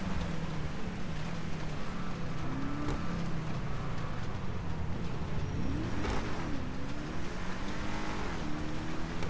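A steady car engine drone with shifting pitch as the car accelerates and changes gear in Grand Theft Auto V, continuous and fairly loud, no talking.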